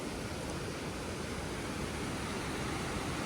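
Fast-flowing river water rushing in a steady, dense roar that fills the clip without pause, close and loud with no voices over it.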